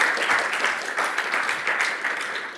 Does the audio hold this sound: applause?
yes